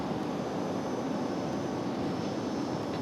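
Steady, even engine roar of a Breeze Airways airliner taxiing at RDU airport, a continuous broad hum at moderate distance with no voices.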